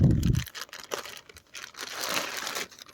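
Plastic packaging around a metal figurine is cut and pulled open, with a short thump followed by close, crisp crinkling and tearing of the plastic over a few seconds.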